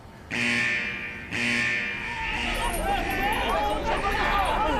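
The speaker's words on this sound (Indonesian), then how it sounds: "Alarm keselamatan berbahaya berbunyi di sana" A harsh alarm blares in two loud bursts, then keeps sounding beneath a voice talking over it.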